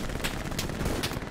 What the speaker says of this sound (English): MG42. I know, this one sucks. We must put down suppressing fire!